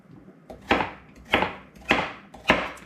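A knife chops ingredients for fire cider into small pieces on a cutting board, with four crisp, evenly spaced cuts, each ending in a short scrape.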